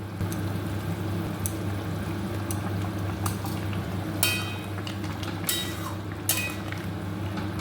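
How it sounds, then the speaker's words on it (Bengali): Fish goes into a thin, bubbling curry broth with potato and eggplant, giving a steady simmer close by. A few sharp clinks of a utensil against the pot punctuate the sound. "তো এই ঝোলে অ্যাড করব মাছগুলো।"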